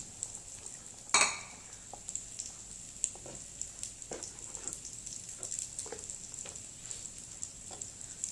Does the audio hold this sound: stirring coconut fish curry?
yes